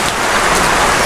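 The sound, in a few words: heavy rain from Typhoon Paeng in Bicol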